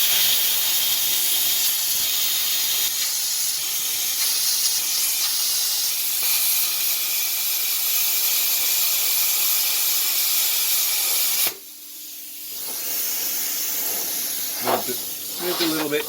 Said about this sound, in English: it's as simple as that with a plasma cutter